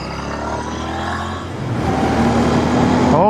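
A Royal Enfield Interceptor 650 motorcycle engine idles with a steady throb, then revs up, its rumble growing louder and rougher toward the end.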